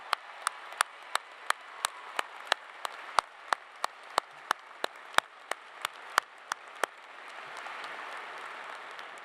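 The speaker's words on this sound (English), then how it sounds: "Let's have a round of applause for them." Applause for award recipients standing at a Wharton undergraduate graduation ceremony: sharp, evenly spaced claps ring out close by over a softer crowd wash, then blend into a fuller, sustained round near the end.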